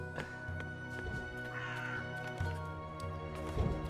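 Crow cawing in the video game Dreamfall Chapters, a few harsh raspy caws spread across the moment over a steady low ambient hum, moderately faint and somewhat distant.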